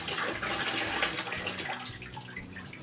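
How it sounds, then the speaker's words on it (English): Water drains and splashes out of a butchered small game carcass, making a steady, close rushing pour that fades to scattered drips toward the end. "Drain the water out of it."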